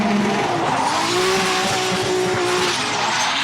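A drift car in a D1NZ Pro-Championship qualifying run at Manfeild slides off the track, its engine roaring steadily while the tyres squeal and scrub continuously, loud and close, with no voices over it.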